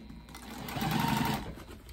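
A sewing machine stitches a seam, slightly raising the seam allowance, a short, continuous mechanical hum that swells and fades over about two seconds.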